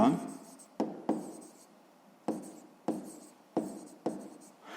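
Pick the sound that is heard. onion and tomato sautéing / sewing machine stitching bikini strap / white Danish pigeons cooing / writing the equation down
writing the equation down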